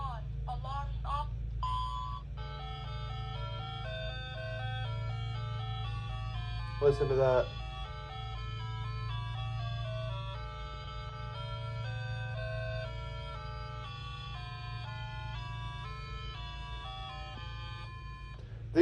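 A talking pocket calculator with an alarm clock plays its electronic alarm melodies, bright beeping tunes that run on steadily at close range, with a voice speaking briefly over them.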